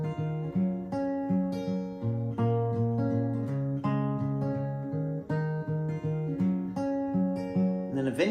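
Guitar playing the verse of a song, a steady, clear melodic line of plucked notes over a ringing open low string, played alone and close without talking.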